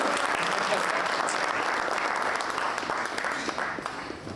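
An audience applauding at the Rental eSummit presentations, a sustained wash of many hands clapping close by that fades gradually toward the end.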